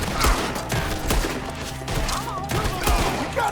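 Gunfire from a Red Dead Redemption 2 shootout rattles on in rapid, overlapping bursts and heavy thuds, loud and dense throughout, with a shouted voice faintly mixed in.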